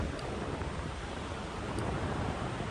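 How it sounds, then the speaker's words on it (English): Heavy wind roaring steadily past the microphone during a paramotor flight, a dense, constant rush of buffeting air with no other distinct sounds. "Got a heavy wind, so I'm going to go into the wind"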